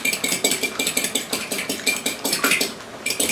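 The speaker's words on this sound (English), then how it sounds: "let me beat up my egg" A fork whisks an egg briskly in a bowl, making fast, steady clinking strokes in a close, loud, rhythmic run with brief pauses and no talking.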